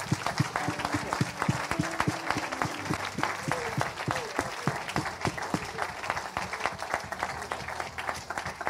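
A church congregation applauds to acclaim the Lord with sustained, dense clapping from many hands, fairly close and even, and a few voices mixed in.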